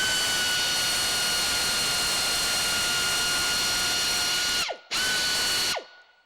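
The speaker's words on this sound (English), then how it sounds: "We reverse the air ratchet." An air ratchet running in reverse while backing out a spark plug insert installer on a Ford Triton 2-valve engine gives a loud, steady pneumatic whir that cuts off briefly, restarts, then winds down to silence.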